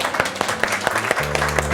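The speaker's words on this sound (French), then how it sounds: "on va tous s'applaudir pour se faire plaisir" A short burst of group applause from a jury and audience at a cooking competition award ceremony, brisk clapping with faint background tones entering near the end.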